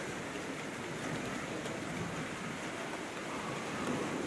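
Stormy weather outside a home: a constant hiss of rain pouring down, fairly close and even throughout, with no distinct thunder rumble standing out.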